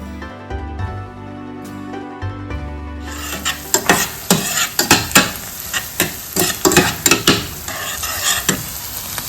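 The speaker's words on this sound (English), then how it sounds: "Saute just a little bit. Add the pounded garlic." Pounded garlic and onions sautéing in a pan for an Indian broad bean stir fry, a steady sizzle broken by repeated close scraping and stirring strokes of a spatula, with a quieter start before the frying begins.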